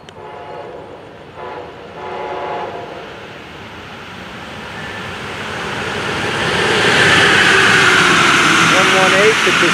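Southbound freight locomotives, including a lead engine in a special wrap, rush past at track speed, building into a loud roaring rumble with a horn blast, after someone speaks briefly at the start.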